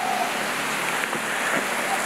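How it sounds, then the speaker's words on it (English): Heavy rain pouring down in Phuket, Thailand, a steady, dense hiss of falling water that fills the whole moment without pause. "it is absolutely pouring down"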